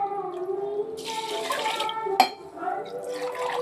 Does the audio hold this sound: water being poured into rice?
yes